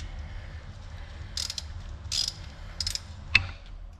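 Mechanical ratcheting clicks come in a few short bursts while a part is twisted tight on a crankshaft, close and fairly quiet, with a sharper click near the end over a low background hum.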